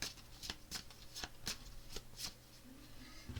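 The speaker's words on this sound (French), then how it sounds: "Je brasse les cartes" Playing cards shuffled by hand in a tarot-style reading, a series of crisp riffling snaps and soft slides close up, quiet and steady with no talking.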